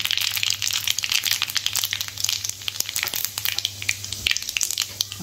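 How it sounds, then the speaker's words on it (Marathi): Mustard seeds and cumin spluttering in two large spoons of hot oil for a chole dish: steady close crackling and popping with a faint low hum underneath. "ह्याच्यामध्ये मी 2 मोठे चमचे तेल टाकले आणि हे बारीक 2 चमचे मोहरी घालणार आहे"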